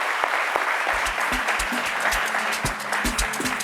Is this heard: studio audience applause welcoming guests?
yes